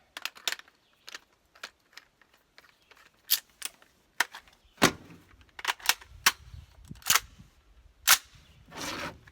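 Gunshots at an outdoor shooting range ring out as a string of sharp, separate cracks spaced irregularly, a few louder than others, with no talking.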